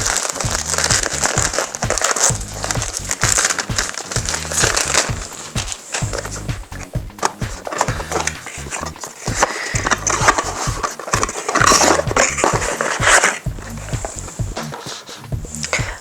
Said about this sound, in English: the box is brand new, so I'm going to unwrap it